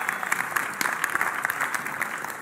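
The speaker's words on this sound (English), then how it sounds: "Give my team a big clap." A church congregation claps briefly for a team, a fairly soft patter of many hands with a few sharper individual claps standing out across a couple of seconds.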